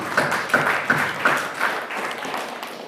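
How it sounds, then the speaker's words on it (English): Audience applause welcoming guests at an evening youth leaders' meeting, a steady wash of clapping with a few louder claps standing out at a regular beat, fading slightly toward the end. "Let us welcome our guests with a thunder sound of applause"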